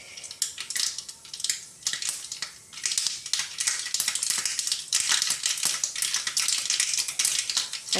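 Mustard seeds, one spoonful, popping and crackling in hot coconut oil while tempering for a papaya moru curry; dense irregular rapid pops and sputters, close and fairly loud, continuing throughout with no talking.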